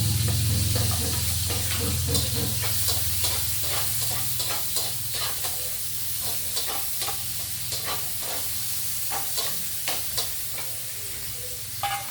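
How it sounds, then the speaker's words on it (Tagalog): Onion and garlic sizzle and fry in a pan with steady hissing, while a utensil scrapes and stirs in repeated short strokes close by, with no talking. "Lagyan natin ng sibuyas, bawang."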